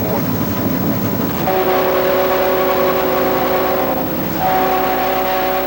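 A big L&N diesel locomotive sounds its horn at a crossing, sustained blasts over the steady rumble and clatter of the moving train nearby.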